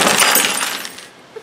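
A light bulb struck and shattering, a sharp burst of breaking glass up front that rings and fades out, ending with a faint clink, no talk.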